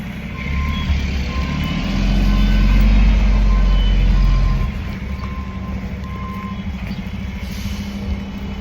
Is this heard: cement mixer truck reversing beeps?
yes